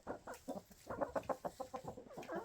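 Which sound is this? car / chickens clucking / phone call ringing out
chickens clucking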